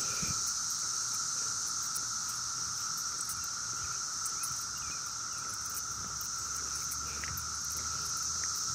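Cicadas in Maryland drone in a steady, dense chorus of high-pitched buzzing that holds unbroken throughout and surrounds the listener, with no voices heard.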